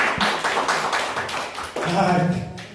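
A church congregation claps together in a brief rapid burst, close and fairly loud, with voices calling out over the clapping.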